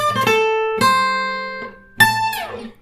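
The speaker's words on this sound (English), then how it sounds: "I play that up to speed, it will sound something like this." Blues guitar lick played up to speed, three quick plucked notes in succession ending on a bent, ringing note, close and clean with no talk.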